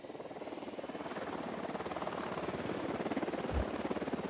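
A drone helicopter approaches in a video game set in Bolivia, its rotor chopping in a fast, steady pulse that grows slightly louder, with a brief thud and sharp clicks near the end and faint talk in the background.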